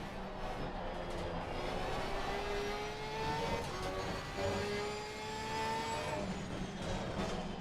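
Ferrari GT race car engine in Assetto Corsa Competizione during a GT World Challenge race, a steady, rising high-revving drone with shifting pitch as it accelerates through a medium-speed corner, other cars close behind.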